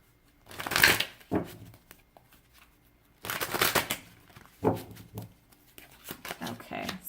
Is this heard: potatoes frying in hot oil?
no